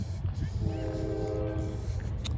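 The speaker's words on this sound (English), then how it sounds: "I gotta deal with a damn train now." A train rumbles past nearby while its horn sounds in a sustained blast, heavy low rumble continuing throughout, with a faint voice under the noise.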